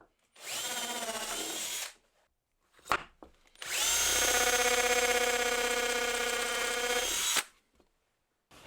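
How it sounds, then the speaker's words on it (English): Two bursts of an electric drill whirring at high speed while boring a 6mm hole, a short one then a longer steady run, with a brief knock between them; close and loud. "Then I can drill a 6mm hole onto all my centre marks"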